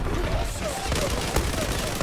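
Rapid gunfire in the online shooter Zula, a dense continuous burst of shots running steadily throughout at a loud, even level, with faint voices behind.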